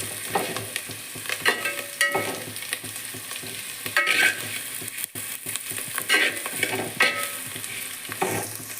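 Pirandai, the adamant creeper, sizzles while being sautéed in a pan for thuvaiyal, a continuous close frying hiss broken by repeated scraping stirs of a spatula.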